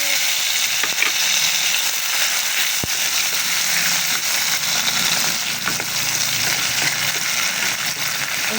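Tomatoes sauté in an onion-coated pan for a stir-fried eggplant dish, giving a steady, loud, continuous sizzle and crackle with a single sharp tap partway through and no talking.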